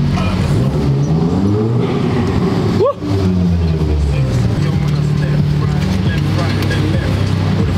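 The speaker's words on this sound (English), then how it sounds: "The only good thing about a car park, it's noise." Traffic echoes through a car park, a steady, loud low engine rumble that dips briefly and then continues, with a passing vehicle sweeping through near the middle.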